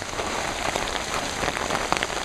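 Heavy rain pours steadily outdoors on a hiking trail, a dense continuous hiss with scattered louder drop impacts, close and loud throughout with no talking.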